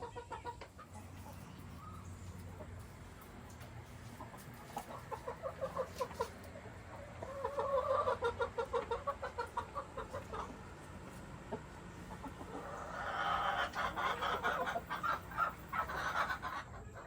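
Chickens clucking in a backyard chicken run, a series of close, rhythmic clucks that grow busier and louder in two bursts over a low background rumble.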